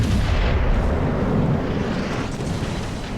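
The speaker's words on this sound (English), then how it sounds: "Wishing my secondaries would fire a little faster" Warship secondary guns booming in World of Warships, heavy rumbling artillery blasts that blur into a continuous loud roar with little separation between shots.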